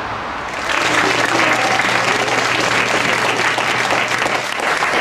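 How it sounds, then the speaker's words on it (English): A studio audience claps in sustained, dense applause that starts suddenly and holds steady and loud throughout, with no speech over it. "Give her a big round of applause."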